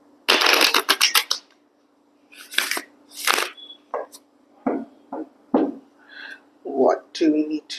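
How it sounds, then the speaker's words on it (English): A tarot card deck gets reshuffled up close with a fast flurry of crisp riffling, then scattered card slaps and taps while a voice talks intermittently between them. "I need to reshuffle this again. Let me reshuffle this again"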